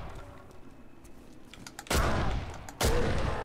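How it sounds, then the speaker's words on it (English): Two loud gunshot bursts from the video game Condemned, each a broad blast around a second long, with the second following about a second after the first over a low background of game ambience. "It would have been nice if you shot when I pulled the trigger."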